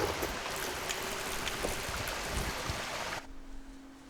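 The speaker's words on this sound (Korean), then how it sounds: "흐르는 물소리" Flowing stream water makes a steady, dense rushing hiss up close, then abruptly drops to a quieter, more distant murmur near the end.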